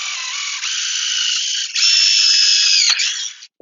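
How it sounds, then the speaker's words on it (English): A power drill bores down through a board into aluminum while assembling hillside stairs, a loud, steady high whine that shifts pitch partway through, ending with a brief drop-off. "you're going to take the drill, and you're going to drill down through the board"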